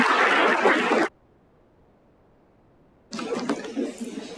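A conference audience claps in two bursts separated by about two seconds of near silence, the second burst quieter and thinning out.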